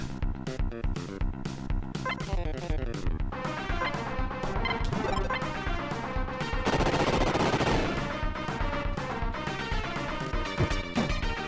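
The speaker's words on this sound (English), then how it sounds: "Oh, and they explode." Enemies blow up in the Metal Max Returns video game in a dense run of crashing, gunfire-like bursts and rapid explosive pops over game music, loudest in a sustained burst partway through.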